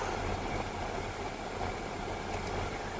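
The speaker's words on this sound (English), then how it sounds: "that is a chiller, air-cooled chiller with air handlers on them" Air-cooled chiller with air handlers on a shopping mall rooftop, a steady low mechanical hum and whir with broadband fan noise, continuous and fairly close, no voices.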